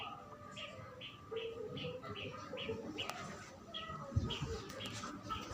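Pigeons overhead give repeated short chirping calls in a steady rhythm, moderately near, over a busy outdoor background with low rumbling noise.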